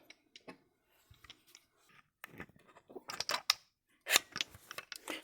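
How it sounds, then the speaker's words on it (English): Crank handle of a Porlex Mini II hand coffee grinder being slotted through its grip, giving a few small clicking and scraping mechanical sounds, close and fairly quiet, with brief pauses between them. "You just put the crankshaft in, just right through this grip."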